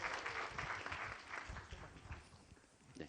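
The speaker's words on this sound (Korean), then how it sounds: "박수!" A church congregation at a Sunday evening worship service gives a faint, fairly distant round of dense applause that swells briefly and then gradually tapers off.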